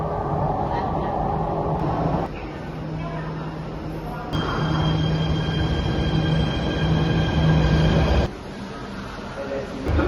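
An MRT train runs with a steady, loud rumble and rolling wheel noise, shifting abruptly in level as carriages pass, with high squealing tones above and a faint voice mixed in.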